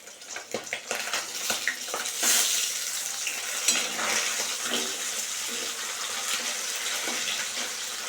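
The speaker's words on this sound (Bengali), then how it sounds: "চিংড়ি মাছ ভাজা হচ্ছে" Prawns frying in a pan sizzle steadily with sharp crackles and pops, close by, while nearby rice finishes cooking; occasional scraping and clinks break through the continuous hiss.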